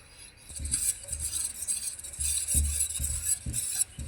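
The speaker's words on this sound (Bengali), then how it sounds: "দুধ আর চিনির সঙ্গে সুজিটাকে আমি এক সাইড থেকে এইভাবে মিশিয়ে নেব।" Semolina being stirred with milk and sugar in a pot for a cake batter, giving soft scraping and occasional clinks of the spoon in irregular strokes, close and moderately loud, with no talking.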